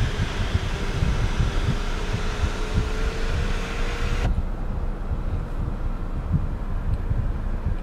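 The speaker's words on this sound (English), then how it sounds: "And not only is it a moonroof, it actually opens also." A power moonroof on a 2015 Hyundai Genesis sedan slides open with a steady, faint motor whine that rises slightly over about four seconds under constant cabin rumble, then stops abruptly, leaving only low background hum.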